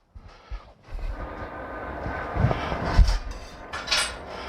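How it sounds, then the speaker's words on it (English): A train rumbles past outdoors near a griddle where burger buns are toasting, a low, steady roar swelling and fading in the background with a few light clinks over it. "If you can hear me over the train there."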